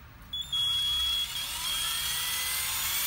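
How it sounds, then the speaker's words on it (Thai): An INGCO 12V cordless drill on a lithium-ion battery spins up after a brief pause and then whines steadily, a close, fairly quiet motor hum with no voices. "ผมมาลองเสียบกับสว่าน12โวลต์ นี่ครับเสียบก็ใช้งานได้ปกติ"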